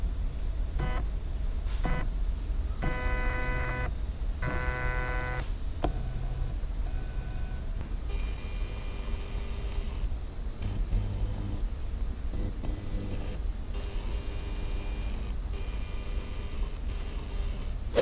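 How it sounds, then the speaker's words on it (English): The motor inside a Switchbot pan/tilt camera whines and buzzes in repeated bursts of varying length as it pans, close and fairly loud, with short pauses between movements. "whenever the Switchbot camera is panning around, the motor inside the camera is very loud"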